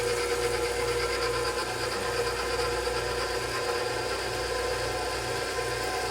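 A stand mixer kneads sticky baguette dough, giving a steady motor whir with a soft rhythmic thumping underneath, continuous and close throughout.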